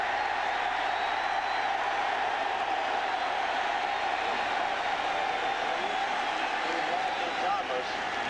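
A large football stadium crowd at a college game between Texas A&M and Oklahoma roars in a steady, dense wash of cheering that holds throughout, with a commentator's voice running over it.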